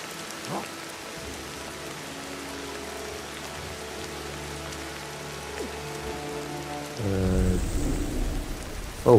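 Steady rain hiss with low thunder rumbling in a thunderstorm in the video game Ancestors: The Humankind Odyssey, swelling louder and heavier near the end with no talk.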